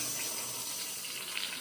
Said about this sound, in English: I'm just going to add some water in. Make sure it covers the meat.